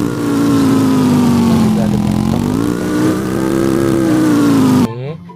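New motorbike engine in Sakura School Simulator: loud, continuous buzzing engine drone with a slowly wavering pitch, cutting off abruptly near the end.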